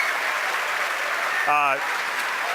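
A crowd cheers at SpaceX headquarters in Hawthorne as a recovered Falcon 9 first stage is seen on the drone ship, a steady roar of applause and shouting with a brief voice rising above it.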